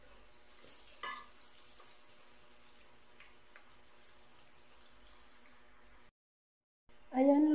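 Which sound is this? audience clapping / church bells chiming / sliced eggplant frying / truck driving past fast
sliced eggplant frying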